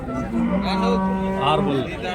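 A cow moos close by, a long low call that rises and falls over about two seconds.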